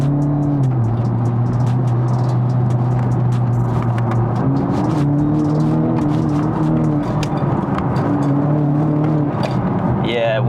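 BMW F30 330e Stage 2 plug-in hybrid tuned to about 400 bhp driven hard in sport mode, its engine droning steadily with shifting pitch from inside the car while someone talks over it.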